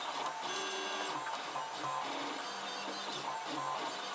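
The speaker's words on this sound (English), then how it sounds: "Printing onto blue painter's tape that was cleaned with isopropyl alcohol." A 3D printer lays down blue 1.75 mm PLA onto blue painter's tape, nozzle at 195 degrees and bed at 30. It gives a steady close whirring hum with shifting stepper-motor tones and continuous buzzing throughout, and no voices.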